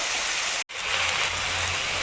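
Soaked rice and mung lentils for a vegetable khichuri are stirred in a pot after light frying, giving a steady, close sizzling hiss with one brief break.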